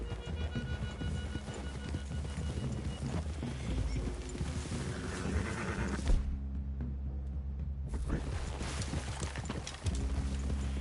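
Horses' hooves clip-clop in Red Dead Redemption 2, a continuous rhythmic trot over a low game soundscape and music, with the ambience briefly thinning midway before resuming.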